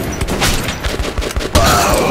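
Rapid bursts of gunfire in Metro 2033 Redux, loud and close, arrive in a choppy run of shots with a heavier thump near the end.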